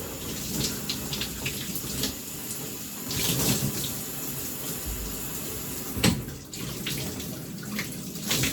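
Steady water running from a home shower in a bathroom as hair is rinsed, a continuous close hiss with splashing shifts throughout and no voice.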